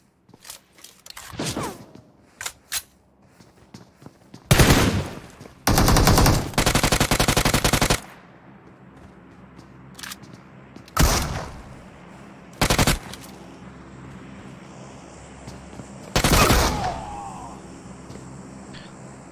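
Gunfire from PUBG Mobile, including shotgun blasts, comes as loud separate shots mixed with longer rapid bursts, alongside footsteps and mechanical clicks in the game.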